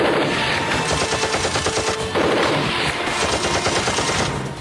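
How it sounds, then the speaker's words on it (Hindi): Gunfire around a government building held by terrorists during an army operation: continuous rapid machine-gun bursts, loud and dense, rattle in overlapping volleys with a short break partway through, and no voices. "कल से इस इमारत के चारों तरफ सिर्फ गोलियों की आवाज सुनाई दे रही है।"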